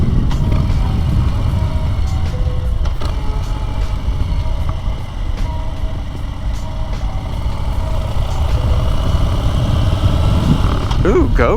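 A motorcycle without cruise control cruises along a road, its engine a steady loud drone and rumble throughout, with a slight dip in the middle and a brief rise near the end.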